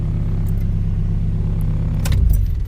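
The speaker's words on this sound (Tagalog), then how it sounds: "Ngayon, while the engine is on, patayin ulit natin." A car engine idles with a close, steady low rumble, and near the end a sharp metallic jangle and rattle comes as the ignition is turned to shut it off; no talking.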